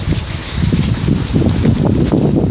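Gusty wind buffets an Improved Combat Shelter tent pitched unstaked, a steady low rumbling roar with fabric flapping and rustling close by throughout.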